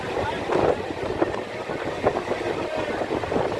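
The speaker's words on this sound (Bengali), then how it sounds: "লোকাল ট্রেনে উঠেছি।" A moving local train heard from an open doorway, a continuous rattling rumble mixed with wind buffeting the microphone, with some faint voices in the background.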